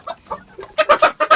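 Sick chicken with a cold and runny nose giving a series of short hoarse, congested clucking calls, close by, growing louder and more rapid toward the end.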